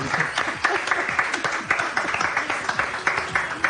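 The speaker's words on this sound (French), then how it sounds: "je pense qu'elle mérite une bonne main d'applaudissement ici" A TV hypnosis show's studio audience claps steadily for a celebrity guest, many hands close together forming a dense, even patter of claps that holds for several seconds.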